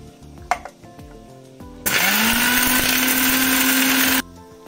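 A mixer grinder powders sugar with dry ginger, cumin and cardamom, whirring loudly and steadily for about two seconds before cutting off abruptly, preceded by a few clicks and knocks.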